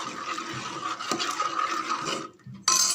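Ground coconut paste is stirred into sambar in a pot, a steady close scraping and swishing that runs continuously, dips briefly near the end, then returns sharper and brighter.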